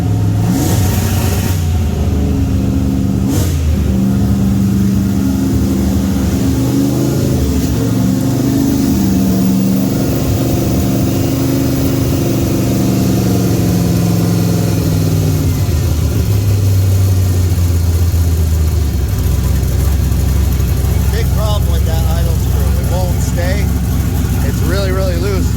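A turbocharged car with a Holley and Lingenfelter setup revs under throttle, its engine note rising and falling in sustained blips, then settling into a rougher idle near the end, loud throughout with speech mixed in.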